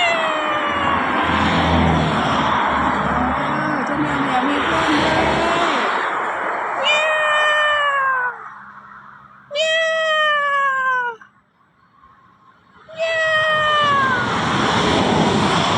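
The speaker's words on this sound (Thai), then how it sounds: "two cats" Two cats meow loudly and close by in a series of drawn-out, wavering cries, some overlapping, with short quiet gaps between bursts and no talking.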